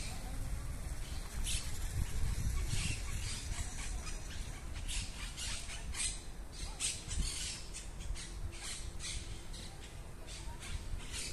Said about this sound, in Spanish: les voy a dejar con el sonido de los pájaros